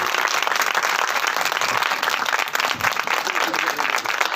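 An audience applauds after a Christmas drama performed by children, dense continuous clapping from a full room, loud and steady with no voices over it.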